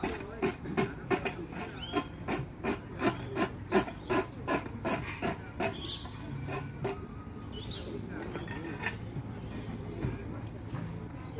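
A hand file rasps the sharp bottom edge of a wooden didgeridoo in Katherine, Northern Territory, making a series of rhythmic close scraping strokes that loosen into irregular rubbing toward the end.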